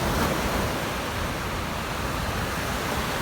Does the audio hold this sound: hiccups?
no